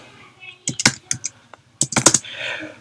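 Clicky bursts of typing on a computer keyboard while entering a name in Python Django code, short clustered keystroke runs separated by pauses, close and crisp, with no talk over them.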